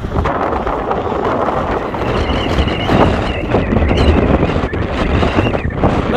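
Strong, steady wind roars and buffets against the microphone on Beinn Bhreac, a mountain in the Scottish Highlands above Loch Etive in whiteout conditions, loud and continuous throughout with no pauses.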